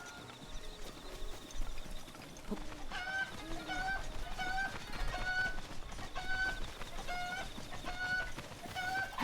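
Chickens clucking in the video game Zelda Breath of the Wild, repeated short clucks over game footsteps and background ambience, moderately close and fairly quiet.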